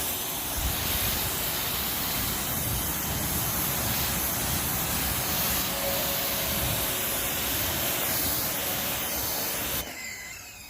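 A Greenworks electric pressure washer sprays a car continuously with a loud, steady hiss and whine of the motor, cutting off abruptly near the end.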